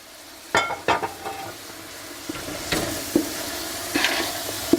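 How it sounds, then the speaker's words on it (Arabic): Kabsa spices and paprika being stirred into tomatoes frying in a pan: several sharp scraping knocks of the spoon over a steady sizzle, close and alone. "بهاراتنا مثل ما هن رح ننزلهم هلا فوق البندورة وباقي المكونات، ونعمل لهم هلا تحريكة مع بعض"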